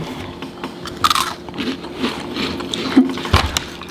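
Crisp crunchy bites into a cream-filled wafer snack, a few sharp crunches followed by chewing, close and clear with no talking.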